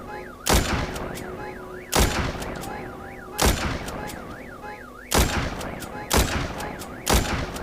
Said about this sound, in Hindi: स्नाइपर तो बहुत तगड़ी चल रही है यार, स्नाइपर लेनी पड़ेगी एक बढ़िया सी